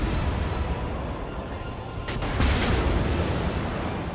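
Battleship guns firing armor-piercing shells in World of Warships, a deep booming salvo that rises midway out of a steady rumbling sea-battle background, with a few distant thuds.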